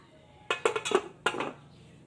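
A metal lid is set back on a cooking pot while a spicy dish cooks: a few close, sharp clanks and rattles in quick succession, one more clink a moment later, then a quiet stovetop background.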